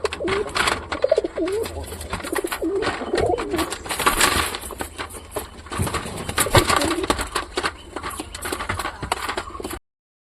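Satin pigeons cooing in a loft, repeated soft throaty coos from several birds close by, with wing rustles and scuffing throughout.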